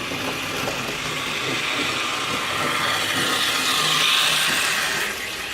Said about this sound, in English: so you're going to see the train come right now